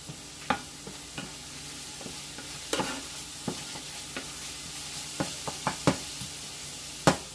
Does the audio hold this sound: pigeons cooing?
no